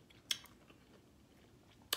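Biting into crispy homemade salmon croquettes, two sharp close crunches about a second and a half apart with faint chewing between, no talk.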